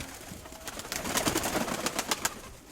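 Pigeons cooing softly in a loft, a few low murmuring calls close by with light rustling, no talk.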